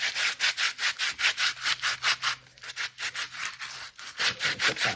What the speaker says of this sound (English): I don't want the knife, so I'll just use it and rub the carrot.